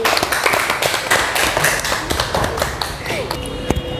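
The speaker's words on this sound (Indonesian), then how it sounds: "Tepuk tangan dulu." A classroom group at a university music lesson claps in scattered, uneven bursts, with a few sharp taps and a brief musical tone near the end, and murmured voices mixed in.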